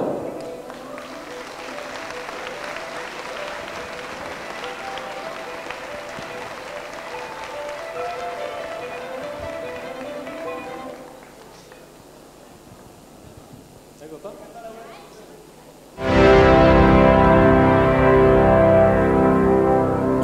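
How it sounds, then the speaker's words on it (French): Thunderous audience applause at a skating opening ceremony as the skaters depart, a broad steady wash of clapping that dips quieter before a loud, fuller burst of cheering applause near the end. "je vous demande un tonnerre d'applaudissements pour le départ des patineurs."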